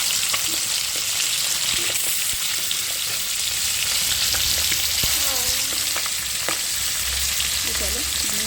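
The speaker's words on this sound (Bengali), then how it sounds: "প্রথমে ডিমগুলো ছেড়ে দিচ্ছি সব ডিমগুলো একটুখানি ভেজে নিচ্ছি" Eggs frying in smoking-hot oil for an egg curry, a dense, constant crackling sizzle that stays loud and close throughout, with faint clinks of a utensil and no voices.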